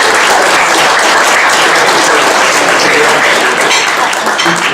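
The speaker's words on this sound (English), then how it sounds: "So if you give them a round of applause" An audience at a yacht club change-of-watch gathering claps steadily, a dense, loud, close wash of applause that holds level from start to finish.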